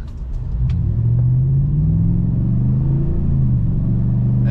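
A deep engine rumble from a 2021 Chevrolet Silverado 1500 pickup idles close by, swelling slightly as it revs, then settling into a steady low growl.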